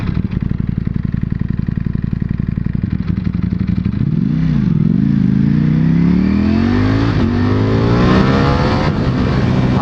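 A 2021 Ducati Panigale V4S motorcycle accelerating at about half throttle, its engine note climbing steadily in pitch through a loud, close, continuous roar with a brief dip and recovery.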